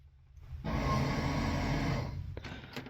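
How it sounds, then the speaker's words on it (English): Electric fuel pump on a 1954 Chevy 3100 pickup briefly powered up, a loud steady buzzing whir lasting about a second and a half, then cutting off with a few faint clicks. "That was the sound of the fuel pump."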